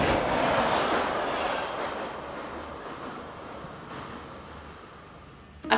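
Interior of a KTX high-speed train in Busan, South Korea: a steady broadband rumble and rush of the moving carriage, loudest at first and slowly easing, with no talk.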